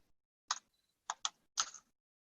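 Sparse keystrokes on a computer keyboard during an online call, a few isolated clicks spaced irregularly and some paired, fairly faint against near silence.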